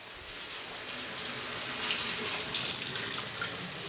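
Water pouring from a tap into a cooking pot to be heated for boiling chow mein, a steady close splashing rush that swells slightly midway and keeps going without a break.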